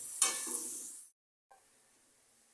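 Coriander leaf paste sautéed in spiced oil for a Bengali coriander pickle gives a loud, close sizzle for about a second, then cuts out and returns as a faint, steady hiss.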